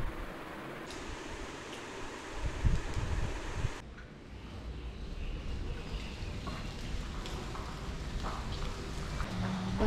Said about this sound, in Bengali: এখনো বৃষ্টি চলছে।